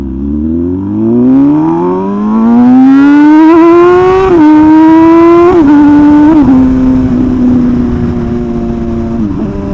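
An MV Agusta motorcycle engine revs loudly while riding at night, its pitch climbing steadily through the gears and then holding high with brief dips at shifts, close and continuous with no talking.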